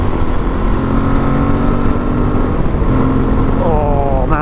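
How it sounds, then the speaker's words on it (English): An Aprilia Tuareg 660 adventure motorcycle's engine drones loudly and close, its intake induction noise a steady buzzing roar that swells and rises in pitch near the end. "Oh man, the induction on this is amazing."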